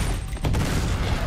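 A grenade goes off in the Uncharted 2 video game as a loud, broad blast with a sharp burst near the middle, set against continuous rumbling game noise.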